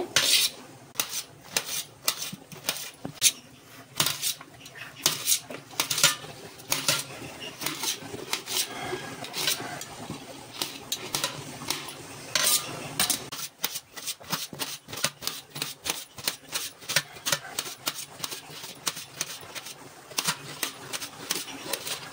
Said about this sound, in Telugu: బీరకాయలన్నీ ఈ విధంగా కట్ చేసుకోవాలి సన్నంగా